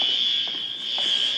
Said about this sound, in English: That is a fire alarm, it sounds like.